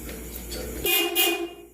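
A horn on an electric solar-powered mini jeepney sounds as a short, bright beep about one second long, close and fairly loud, following a steady hum.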